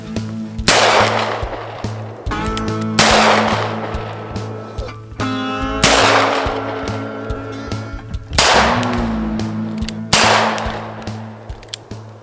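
Six sharp, loud gunshots from a .44 Magnum pistol fired at a 70-yard target, evenly spaced roughly two seconds apart, each a close crack with a short ringing decay, over a low steady background hum.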